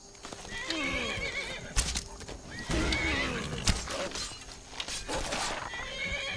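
A horse in Skyrim neighs and whinnies loudly several times, with clip-clopping hooves and other game sounds in the mix.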